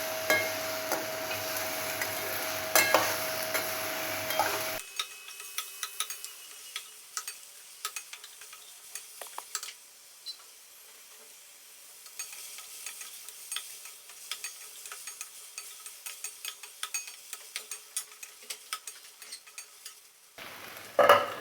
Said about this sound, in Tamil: கொஞ்ச நேரம் அந்த எண்ணெயிலே வதங்கட்டும்.